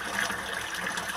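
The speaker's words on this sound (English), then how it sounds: "that's the washing machine" Grey water from a washing machine's final rinse drains through a DIY grey-water system, a steady splashing, gurgling trickle of flowing water, close and continuous without voices.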